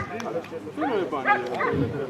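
A dog at a dog show gives short yips and barks amid a busy hall, close and moderately loud, with people talking in the background.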